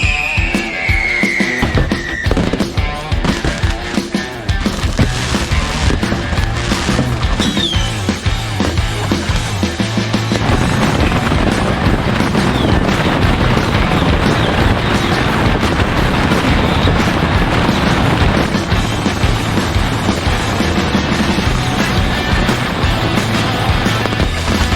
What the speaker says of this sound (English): Oh my god, it's so honored to enjoy the firecrackers with the deities.